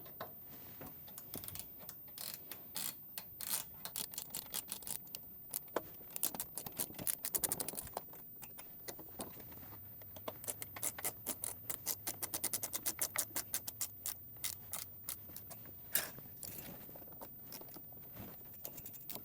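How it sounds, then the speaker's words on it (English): Screws being tightened with a ratchet on a Sanremo espresso machine: rapid runs of light ratchet clicks come in bursts, close and fairly quiet, with short pauses between screws. "grab your ratchet or a stubby screwdriver. We're just going to tighten up all the screws again"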